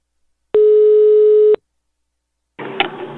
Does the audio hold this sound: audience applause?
no